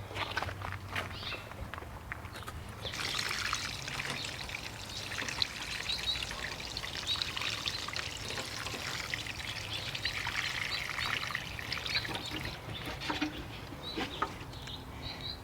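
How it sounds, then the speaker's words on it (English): Garden plants getting a deep watering, with water pouring and trickling steadily onto soil for a long stretch, joined by occasional footsteps and faint birds in the background. "I give them a good deep water."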